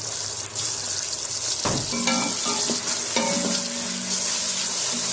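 Potatoes for aloo mongray frying in a pan and being stirred, a steady loud sizzle running throughout with scraping utensil strokes and a few clinks, no voices.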